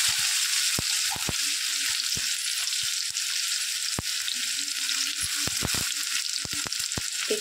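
Hot oil tempered with cumin and asafoetida fries chopped onion for a green moong dal and bottle gourd curry. A steady hiss carries throughout, with scattered spoon taps and light scraping sounds.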